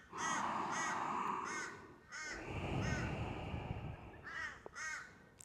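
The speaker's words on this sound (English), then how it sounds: "as the crows serenade us" Several crows caw outdoors in loud, repeated harsh calls, some in quick pairs and some overlapping, set against a faint background hush.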